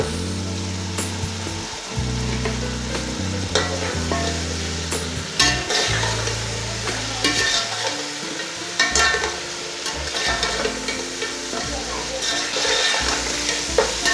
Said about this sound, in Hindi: गोश्त डाल के 2-3 मिनट तक पका लेंगे।